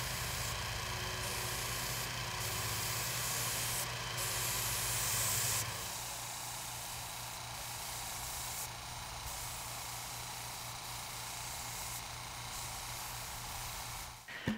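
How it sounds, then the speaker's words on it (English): Steady hissing spray of top coat finish onto crown molding runs continuously, shifting slightly in tone midway, close to the microphone. "spray the top coat and then these can cure out for a bit"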